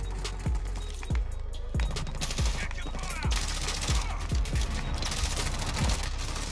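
Rapid bursts of M4A1 rifle fire in a Modern Warfare match, sharp repeated shots in several quick volleys with a loud boom-like punch, continuing through the clip with a faint voice under the gunfire.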